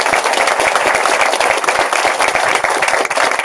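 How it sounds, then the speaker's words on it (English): Audience at Royal Palm Park, Florida applauding the park superintendent, dense and sustained clapping from a sizable crowd, loud and even throughout with no talk over it. "Let's give him a round of applause."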